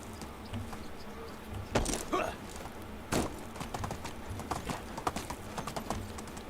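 Horse hooves clip-clopping in the medieval survival game Medieval Dynasty, a soft steady patter of game footsteps with a few louder scuffs and thumps around the middle, moderately quiet and without talk.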